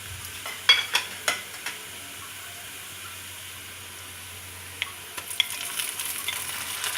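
Spices added to onions softening in oil for chicken korma, with a few quick stirring scrapes, then a quiet simmering hiss, and a louder, steady sizzle swelling near the end.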